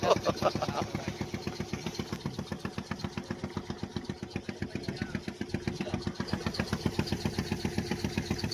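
A motorboat engine chugs steadily nearby on a river trip toward a Muneshwara temple in Tamil Nadu, its rapid regular pulses running throughout without a break.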